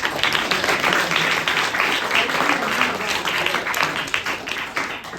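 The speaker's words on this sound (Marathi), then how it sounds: "टाळ्या वाजवा टाळ्या वाजवा" Audience applause at a children's literature conference in Kolhapur, a dense, steady wash of many hands clapping together for about five seconds, fairly close and loud, with voices mixed in beneath.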